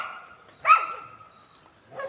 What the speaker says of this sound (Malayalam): അവിടെ നിന്ന് കുരയ്ക്കുക